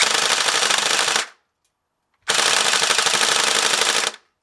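A custom triple MP7 airsoft gun on a G36C handguard fires BBs in two long, loud full-auto bursts with a short silent gap between them.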